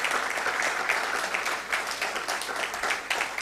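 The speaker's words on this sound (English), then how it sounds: "another round of applause for our inaugural lecturer" An audience at a university inaugural lecture gives another round of applause for the lecturer, a thick, sustained wash of many hands clapping, steady throughout and heard from within the hall.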